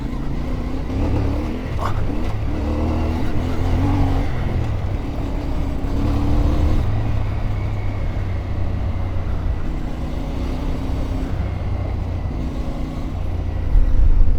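A CFMoto 450 MT motorcycle ridden along a road, its engine droning steadily with shifting pitch under heavy wind rumble, loud and close throughout.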